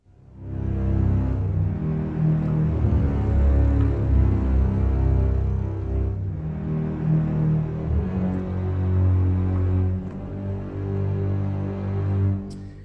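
Deep, sustained orchestral basses swell with a heavy, guttural low end, holding steady for several seconds with a brief dip midway.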